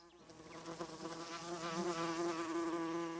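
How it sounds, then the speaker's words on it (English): A bee gathering nectar gives a steady, close buzzing drone that hums continuously and grows slightly louder, with no other sounds around it. "This is a conventional close-up of a bee gathering nectar."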